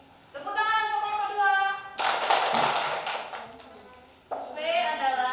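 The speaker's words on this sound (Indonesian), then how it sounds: "Tepuk tangan untuk kelompok" Classroom applause for a student group: a short burst of clapping from a class lasting a couple of seconds, set between stretches of a teacher's talking.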